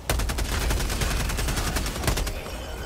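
Rapid bursts of gunfire from the video game Helldivers 2, dense overlapping shots rattling loudly and continuously for a few seconds before breaking off, with no talking.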